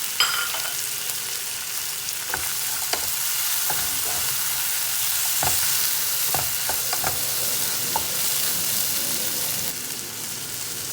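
Dried anchovies (dilis) fry in a pan with a steady bright sizzle, close up. Scattered scrapes and clicks of stirring punctuate the hiss throughout.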